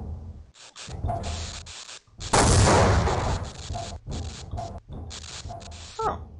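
Game combat in Half-Life: Opposing Force, with a loud broadband grenade blast at about two and a half seconds that fades over the next second or so, set among repeated bursts of gunfire before and after.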